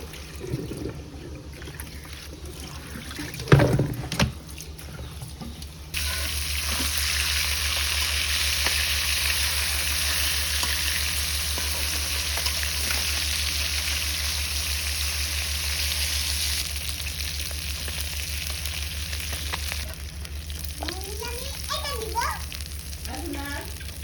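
Fish sizzling in a hot frying pan of oil, a steady loud hiss that starts abruptly after some kitchen clatter and continues evenly, with a voice briefly heard toward the end.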